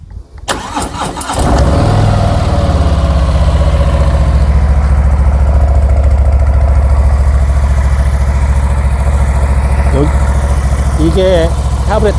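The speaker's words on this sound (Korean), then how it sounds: "한번 시동을 걸어보죠." A carbureted Harley-Davidson motorcycle engine with a plastic intake manifold cranks briefly, fires after about a second and settles into a loud, deep, steady idle rumble close by, with a faint voice briefly in the background.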